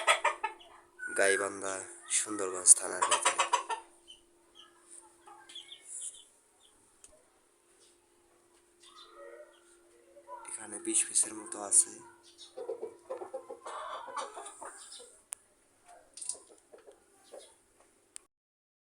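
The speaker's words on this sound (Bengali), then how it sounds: "আমার টাইগার মুরগির খামার।" Tiger chickens on a farm cluck and cackle in short bursts, close by and fairly quiet, while someone talks over them in stretches with quiet pauses between.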